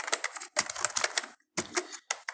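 Fast bursts of keystrokes clatter on a computer keyboard, close and crisp, in several quick runs split by short pauses.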